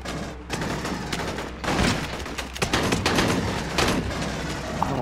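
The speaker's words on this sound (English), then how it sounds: "I'm awful with this machine gun." Rapid automatic gunfire from a machine gun in the Aliens: Colonial Marines video game, dense continuous bursts filling the whole stretch at steady loudness, with no talk over it.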